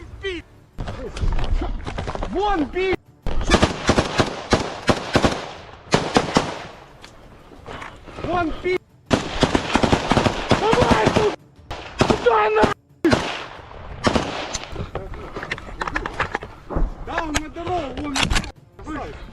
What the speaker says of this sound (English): The Ukrainian fighters identify Russian personnel positioned further down the road and opt to engage their emplacements with rocket-propelled grenades.